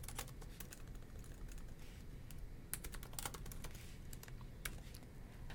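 Computer keyboard typed on in quick, irregular bursts of clicks while entering CSS code, close and fairly quiet with no voices.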